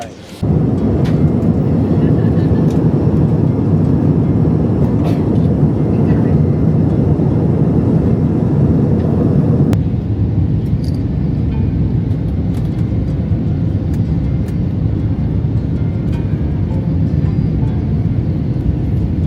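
Steady low cabin rumble of an airliner waiting before takeoff on a flight bound for Laos, a constant engine and air-system drone with faint clicks and rustles near the listener.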